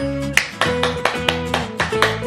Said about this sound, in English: Hands to the side, now let's clap.